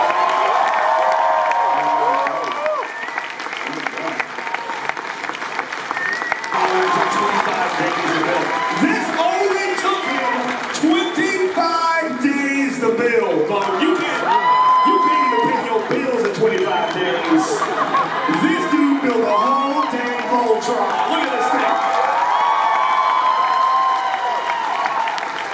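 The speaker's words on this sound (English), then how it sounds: "Give them a big round of applause" Loud crowd applause and cheering fill a cosplay championship stage at New York Comic Con, sustained throughout with scattered whoops, while an announcer's voice speaks over the noise.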